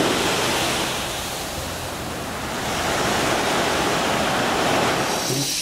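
Ocean surf washes steadily right beside a seaside cottage on the Minami-Boso coast of Chiba, Japan, a continuous broadband roar of breaking waves with gentle swells in intensity and no voices.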